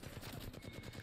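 Rapid hip-fire gunshots from a weapon in Apex Legends during a team deathmatch, a steady stream of quick, evenly spaced reports at moderate distance with no talking.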